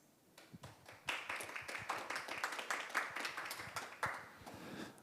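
Audience at an international forum on transboundary air pollution in Seoul breaking into applause, starting with a few scattered claps and swelling into dense, steady clapping from a moderate-sized room.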